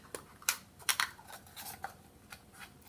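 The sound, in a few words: cutting a plastic cup with scissors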